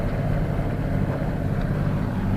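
A catamaran motors at sea off southern Corsica under engine power, a low, steady rumbling hum mixed with wind buffeting the microphone.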